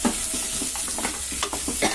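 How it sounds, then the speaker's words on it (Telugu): Vegetables including cluster beans and bitter gourd stirred in an oil-free pan for vegetable soup, a spoon scraping and tossing in quick repeated strokes over a soft sizzle, close and alone. "ఒకసారి కలుపుకుంటున్నానండి అన్నీ."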